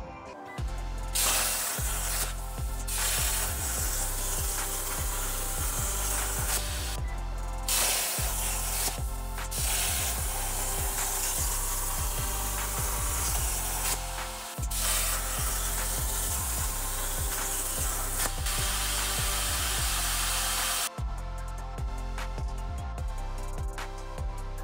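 A Langmuir Crossfire Pro CNC plasma table cuts metal with a loud, steady hiss under a low droning hum, broken by a few short gaps and sharp restarts across the run.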